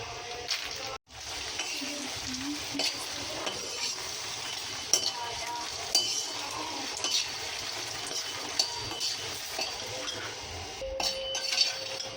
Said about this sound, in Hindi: मैं पहले उसे फ्राई कर लेती हूँ मखाने को घी में